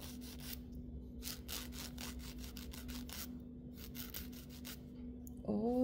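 A nail file rasped across fingernails during gel manicure prep, a close series of soft, scratchy strokes in short back-and-forth bursts with brief pauses, a faint steady hum underneath, and a slight squeak at the end.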